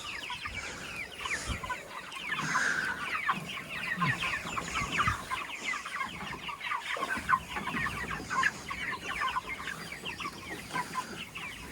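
A large flock of about 500 chickens in a roller pen clucks continuously and densely, many overlapping calls forming a busy chatter, with occasional scratching and movement close by.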